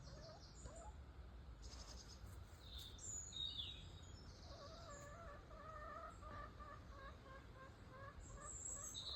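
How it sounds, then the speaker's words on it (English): Chickens clucking and calling softly in the background, a few short rhythmic clucks over steady outdoor ambience, faint and somewhat distant. "He's very interested in these chickens."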